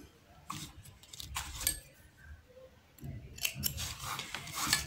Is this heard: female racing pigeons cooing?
no